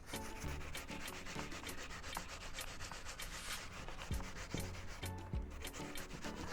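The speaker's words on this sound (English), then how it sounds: "it's time for me to grate the yellow yam" Yellow yam scraped against a hand grater gives a continuous rough rasping rub, quick repeated strokes close up and fairly quiet.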